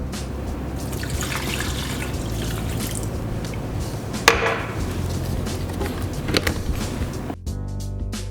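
Water poured into almond miso for a cream makes splashing, dripping and clinking sounds with utensil knocks, ending in a brief sharp clatter.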